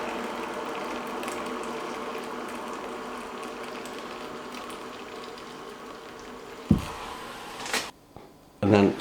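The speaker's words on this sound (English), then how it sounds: "Put some boiling water in there." Boiling water pours from a kettle into a bain-marie dish, a steady rushing splash that runs for several seconds before a few clunks and knocks as the dish is handled.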